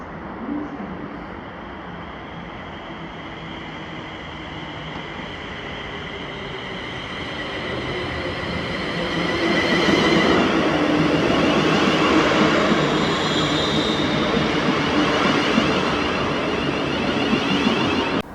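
A ScotRail Class 380 electric unit, 380015, running through Paisley Gilmour Street station on a service to Glasgow Central, with a steady loud rumble and rail noise that swells midway and stays strong to the end.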